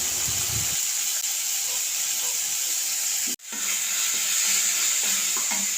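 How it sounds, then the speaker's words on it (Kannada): Tomato and curry leaves frying in a pan with a dense, steady sizzle and hiss up close, broken once by a brief drop, and no one talking. "ಆಮೇಲೆ ಸ್ವಲ್ಪ ಟೊಮೆಟೊ ಚೆನ್ನಾಗಿ ಫ್ರೈ ಮಾಡುವ."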